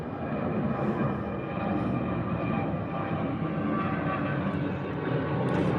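An airplane passing overhead in Dallas at night, a steady broad engine roar that holds loud and even throughout, heard alone outdoors.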